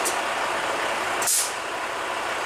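A heavy-duty truck engine running after sitting unstarted for a long time, a loud steady engine drone with a sharp hiss of air release partway through, no talk.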